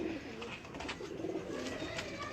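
Breeder pigeons cooing softly in a low, rolling murmur that runs steadily throughout, fairly quiet and close, with no clear talk over it.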